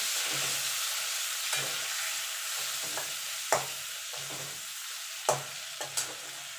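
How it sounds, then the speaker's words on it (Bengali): Turmeric and Kashmiri chili powder being stirred in a frying pan for a tilapia and eggplant curry, with a steady low sizzle broken by a handful of sharp spoon scrapes against the pan, close and alone without voices. "হলুদ গুঁড়ো দিয়ে ভালো করে নেড়ে চেড়ে নেবো"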